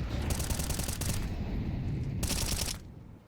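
Rapid automatic gunfire from a Tech 9 and AK-47 in a Counter-Strike match at the StarLadder Budapest Major 2025, two sustained loud bursts with a brief gap between them, fading out at the end.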